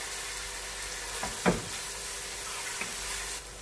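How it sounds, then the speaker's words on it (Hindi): Steady broadband sizzle of onions frying in a hot pan, with a couple of soft utensil clinks partway through; no talking. "प्याज को गोल्डन ब्राउन होने तक हम इसे फ्राई करेंगे।"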